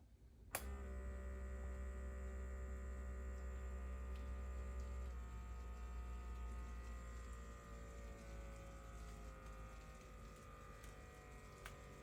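A Yuwell YE660E blood pressure monitor hums as its motor inflates the cuff: a steady electric drone starts abruptly and holds, easing slightly toward the end, with a faint click.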